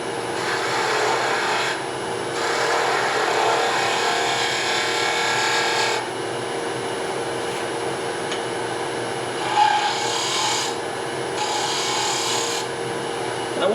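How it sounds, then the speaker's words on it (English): A wooden scoop handle is being sanded or rasped, giving a steady, close abrasive rubbing with a few short pauses and some brighter scratchy strokes near the end. "I'm going to take this down a little bit more, and then I'm going to do a little bit of sanding"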